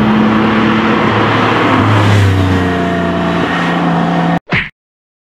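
A Porsche 911 type 996 Cabriolet with its flat-six engine revs loudly and steadily, pitch climbing and easing over several seconds before cutting off abruptly, with one brief final burst after a silence.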